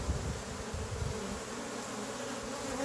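Honey bees buzz in a dense, steady drone during a hive inspection as the comb is brushed clear, close and continuous with no voices.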